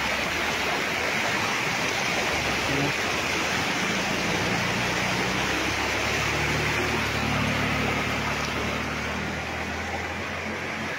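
A rural river beside a farm lot in Real, Quezon rushes in a steady, broadband wash of flowing water. The sound stays continuous and fairly loud throughout with no speech.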